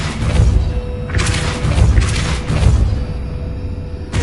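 Depulso force-push spell cast in the video game Hogwarts Legacy, a loud booming, crashing burst with dense low rumble, heavy thuds around one and two seconds and a rolling impact tail that carries through.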